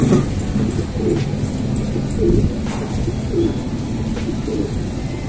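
Jansen Van den Broek pigeons cooing close by in a loft, repeated soft rolling coos over a steady background murmur.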